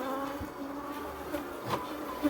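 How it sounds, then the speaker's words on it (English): Agitated honey bees buzz around an opened hive while old frames are cycled out, a steady close droning hum with a few louder passes near the microphone. "the bees are so riled up now that they may start to rub"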